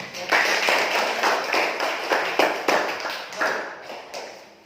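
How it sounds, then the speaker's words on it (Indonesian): A classroom of students gives rhythmic applause for a group after its presentation, a steady run of loud, close, unison claps with a few louder beats, fading toward the end. "Berikan aplaus."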